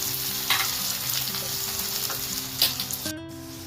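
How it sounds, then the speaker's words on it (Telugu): Ginger garlic paste frying with onions and chillies in a pan for a spicy egg masala, a steady close sizzle with a couple of sharp stirring clicks. A tonal change enters near the end. "ఇలా లైట్ బ్రౌన్ కలర్ వచ్చినాక మనం ముందుగా చేసి పెట్టుకున్న అల్లం వెల్లుల్లి పేస్ట్ వేసేసుకుందాం"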